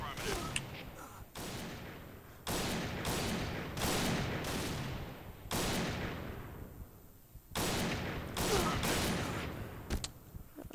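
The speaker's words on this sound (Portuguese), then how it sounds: "De onde vai esse tiro?" Gunfire in the online shooter Point Blank, with bursts of loud rapid shots and sharp single cracks repeating over about ten seconds, close and dominant, with a voice faintly underneath.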